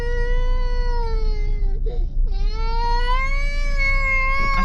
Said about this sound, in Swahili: Paka huko nyuma kanalia.